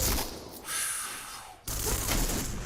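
Gatling gun fire in the online shooter game Point Blank, heard as a harsh, noisy burst that cuts out and then resumes abruptly, close and loud.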